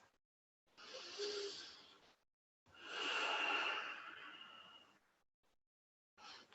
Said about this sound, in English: breathe in through the nose and out through the nose